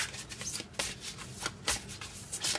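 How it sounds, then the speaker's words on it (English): A deck of Cosmic Pearl oracle cards is shuffled up close, giving quick, papery riffling and flicking bursts in an irregular rhythm, loud and alone for a few seconds. "I'm just going to pull a card now."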